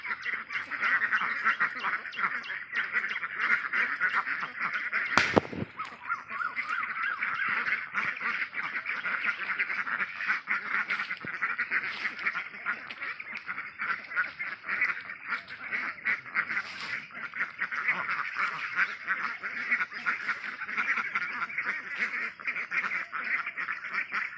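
Laying ducks of several breeds on a duck farm that hatches its own ducklings quack and honk continuously as a dense, loud flock chorus, with one sharp thump partway through.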